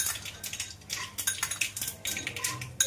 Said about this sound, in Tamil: சிம்மில் வச்சின ஒன்று கடலக்கொட்டை போட்டுக்கலாம்.